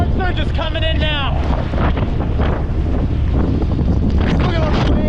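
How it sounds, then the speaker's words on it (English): Hurricane Ian's storm surge on the South Carolina coast at Litchfield, during the storm's third landfall: a loud, constant roar of strong wind buffets the microphone over crashing water, with a voice speaking through it. "Storm surge is coming in now."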